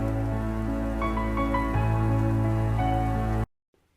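Rain falls steadily on surfaces during a beach wedding, a dense patter with a sustained low tonal hum beneath it that stops abruptly near the end.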